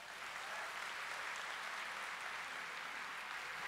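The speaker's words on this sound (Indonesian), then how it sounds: "Tepuk tangan semuanya ya" Audience applause after a governor's speech at a public event, a steady wash of clapping that stays faint and distant, continuous for a few seconds without voices.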